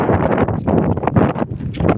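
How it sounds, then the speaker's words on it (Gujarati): Strong wind blowing in the rain outdoors in a village, roaring and buffeting loudly and close against the microphone in continuous surging gusts. "છત્રી ભાઈ આપણે ખોલાય એમ નથી કેમ કે પવન એટલો છે"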